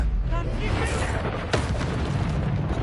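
A Confringo spell blast in a Harry Potter video game, a loud booming burst with a sharp crack about halfway through, set over dense, continuous rumbling noise and a voice.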